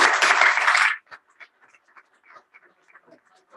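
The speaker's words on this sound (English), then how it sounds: "let's give them a round of applause again" An audience at a City of Indio council meeting applauds its newest police officer trainees. There is a brief burst of clapping that stops after about a second, followed by quiet room sound and faint talking.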